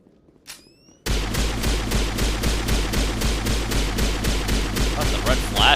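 Automatic gunfire in Call of Duty Vanguard: after a second of near silence, a loud, steady stream of rapid shots cracks out in an even rhythm and continues to the end.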